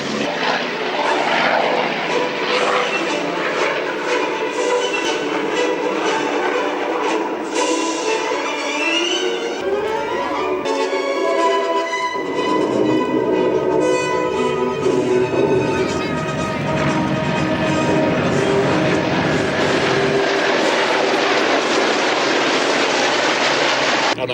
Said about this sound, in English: for visiting us in your lovely pink lady aeroplane